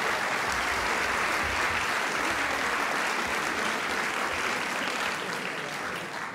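An audience at a live evening talk applauding, a dense, even wash of many hands clapping throughout that eases off slightly at the end.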